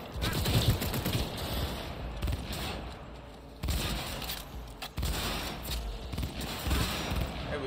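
Gunfire in Cyberpunk 2077 on PS5, heard as dense, continuous automatic shooting with mechanical clatter. Loud rapid bursts repeat without pause for several seconds, and a few brief dips separate the volleys.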